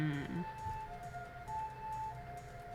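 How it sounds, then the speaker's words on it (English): A siren wails faintly in the distance, its rising and falling tone drifting in over quiet indoor background noise. "Oh, I can hear a siren."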